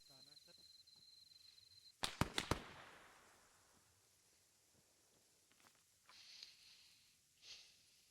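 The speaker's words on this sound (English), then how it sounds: "someone's shooting at me." During a military-simulation training exercise, a quick cluster of three or four sharp gunshot cracks rings out nearby against a quiet outdoor background, followed by faint rustling movement.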